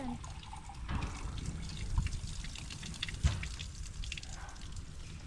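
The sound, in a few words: water flowing from windmill into hand pump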